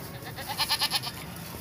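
A single sacrificial goat bleats at an animal cargo depot in Sialkot, a short nasal pulsing call heard fairly close over low background hum.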